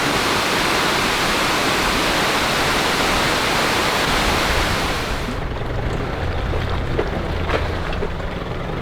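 Montezuma Falls in Tasmania roars as a steady, loud broadband rush of falling water, continuous throughout. Partway through the roar turns slightly duller and muffled while still filling the scene.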